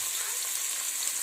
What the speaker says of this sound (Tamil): ஆனியன் அண்ட் கர்லீவ்ஸ் போட்டுடலாம். ஆனியன் கொஞ்சம் வதங்கட்டும்.